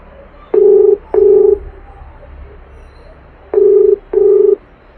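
Telephone tones sound as a call is placed: two pairs of loud, steady, evenly pitched beeps separated by a pause, with no voices.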